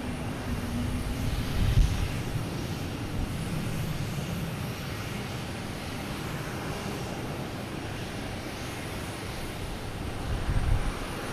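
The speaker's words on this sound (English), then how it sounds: "I'm missing these planes here" Airliners taking off and landing at Boston Logan Airport, heard as a steady, fairly distant engine roar that swells slightly near the start and end, with no voices.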